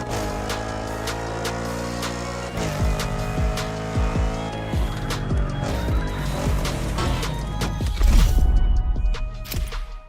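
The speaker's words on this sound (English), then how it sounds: "They're both powered by the same big block engine." Big-block-engine race cars from The Crew Motorfest gymkhana mode roar with rising and falling revs and repeated tire squeals, building to a loud, close surge near the end.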